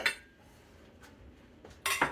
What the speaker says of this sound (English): now I'm going to mix the sour cream and the milk in this pan